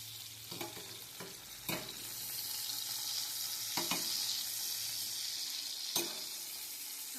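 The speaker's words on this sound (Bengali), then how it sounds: "এরকম একদম গ্যাস কমিয়ে আস্তে আস্তে ভাজবো।" Keski fish fritters fry slowly in a pan over low heat, giving a soft, even sizzle with a few sharp spatula taps and clicks as the fritters are turned.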